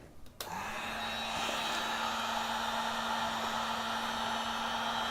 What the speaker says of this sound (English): just run it under a heat gun for about 10 seconds